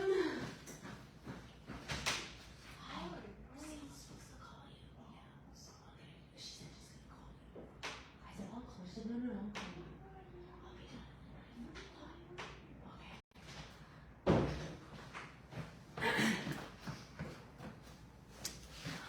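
A house door is opened and handled for an unexpected visitor, with clunks, sliding scrapes and thuds spread over a quiet room and occasional muffled voices.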